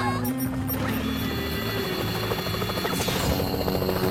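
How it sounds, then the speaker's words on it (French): A cartoon helicopter from Totally Spies approaches with a steady loud rotor drone and engine whine, layered under music throughout. "Parce que v'là l'hélico du Whoop."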